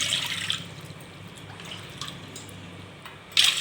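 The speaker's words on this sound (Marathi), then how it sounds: "आता ह्याच्यामध्येच आपण सात वाटी एवढं पाणी मोजून घालायचं आहे" Water from a tap runs and pours into a pot a cupful at a time, a steady wash of splashing with a louder gush near the end, no voices present.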